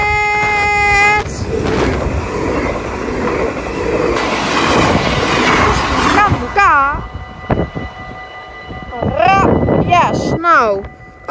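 A train rolls past a Dutch station in Echt on a rainy November day, wheels rumbling and rail noise swelling loud and close, with sharp squeals and a horn-like tonal blast before and after, plus some speech.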